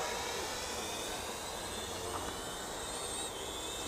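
An Eachine E58 drone flies outdoors in wind, giving a continuous loud, broadband whirring rush that stays steady throughout with no voices.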